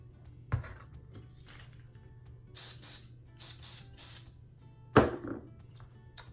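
Several short hissing bursts of hairspray, close by, separated by brief pauses, with a couple of soft handling knocks around them.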